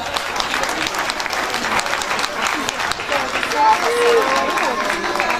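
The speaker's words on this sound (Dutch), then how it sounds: "En dik applaus voor jullie zelf, jongens." An audience at a children's and juniors' carnival election event in East Flanders bursts into sustained, loud applause, steady clapping blended with crowd noise and scattered shouts.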